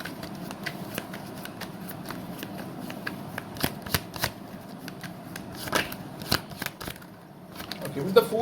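Tarot cards being shuffled by hand in a steady run of soft riffling slaps and flutters, close and fairly quiet, with low room noise beneath.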